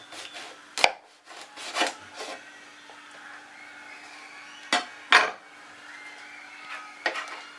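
A knife cuts a galia melon in half, with a few sharp knocks against a cutting board, scattered scrapes and a couple of louder chops spread through, no talking.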